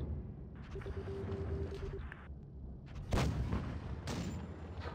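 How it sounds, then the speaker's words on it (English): A tank gun firing a blind shot in World of Tanks Blitz, a sudden heavy boom partway through over a steady rumbling game background, followed by a second, lighter impact. "That's a blind shot."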